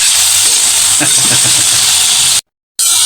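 Snow peas and celery hit a hot pan of pancit canton with a loud, steady hiss and sizzle. The sizzle cuts out briefly near the end, then resumes.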